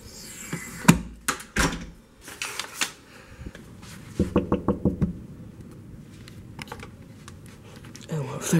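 Knuckles rapping on a bedroom door in a home at night, several quick clusters of sharp close knocks separated by pauses, with quiet talking and soft handling noises around them.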